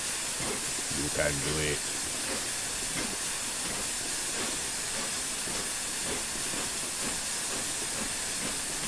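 Flying Scotsman steam locomotive in a train simulator game chuffing steadily under a constant loud hiss of steam, with a brief voice speaking near the start.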